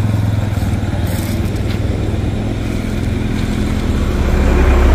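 A motor vehicle with a bent wheel rim is driven away on a road ride from Kolkata to Siliguri, its steady loud engine drone and road rumble filling the clip and swelling slightly toward the end.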